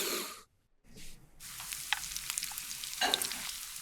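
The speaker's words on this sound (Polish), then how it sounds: "Smaż krokiety z drugiej strony przez kolejne 7 minut." Vegetable croquettes with cheese fry in a pan, a steady close sizzle and crackle with scattered pops after a brief quiet gap, turned over to cook on the second side.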